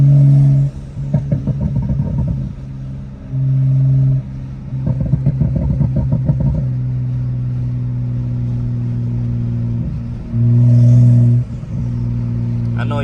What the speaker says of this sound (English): I know y'all hear that intake